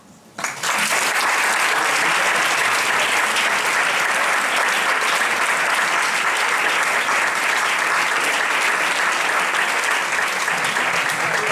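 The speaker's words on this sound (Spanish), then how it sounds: "adelantemos ahora ese aplauso a Purificación Gato" Audience applause for Purificación Gato Castaño at a lecture, bursting in abruptly after a quiet moment and holding as a loud, sustained, even clapping from a large crowd.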